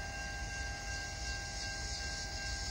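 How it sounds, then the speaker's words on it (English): A Norfolk Southern train rumbles past at a distance in a steady, continuous roar, with a faint high tone running through it. "there's a train"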